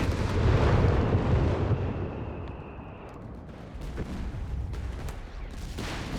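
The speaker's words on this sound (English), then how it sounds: "Artillery being unleashed here over to Spanky" Distant artillery barrage in Company of Heroes 3, a loud rumbling roar of blasts that fades into scattered booms and crackling impacts, with no talking.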